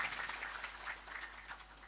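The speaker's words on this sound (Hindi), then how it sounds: "सही है तो ताली बजाइए" An audience at a religious Ram Charit Manas gathering claps steadily in a faint, continuous patter of many hands, heard from a distance without talk.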